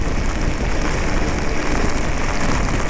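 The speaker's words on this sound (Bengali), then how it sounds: "এত হাওয়ার মধ্যে হাওয়া আর মুসলধারায় বৃষ্টি এটা মেনে নেওয়া যাচ্ছে না" Torrential monsoon rain falls in strong wind during a motorbike ride on the road to Durgapur, a loud, dense, unbroken wash of rain noise close to the rider, with no talking.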